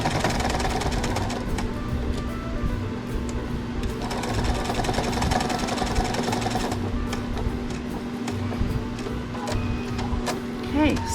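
A sewing machine stitches across the corner and seam of a fabric hot pad, a continuous whirring mechanical hum with rapid needle clatter that briefly changes pace, heard up close.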